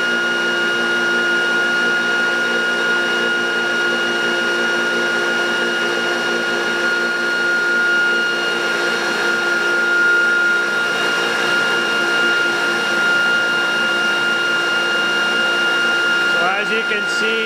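A Regenex-equipped e-bike's electric hub motor runs steadily in normal motor mode, a constant whine with several sustained tones over a broad hum, close and unbroken throughout.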